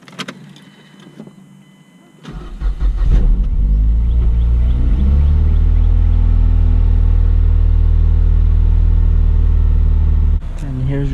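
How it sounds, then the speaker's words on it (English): A Mazdaspeed 3 is started with its fuel fuse pulled and idles with a steady, loud engine rumble for several seconds before cutting out, preceded by clicks and handling noises. "Once you take off the fuel fuse, you're gonna turn on the car and then let it die."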